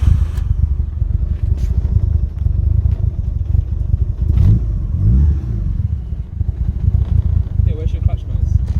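A 500bhp Mitsubishi Evo 5 engine fires up for the first time, settling into a loud, dense, rumbling idle close by with a brief rev swell midway and people chatting over it.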